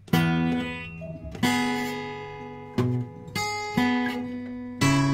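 Strummed acoustic guitar chords ring out in the opening measure of a song lesson, with about five strong strums, each one left to sustain and fade, played alone and close.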